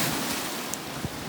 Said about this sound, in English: Today we have severe thunderstorm warning, and as you can see, the waves are coming up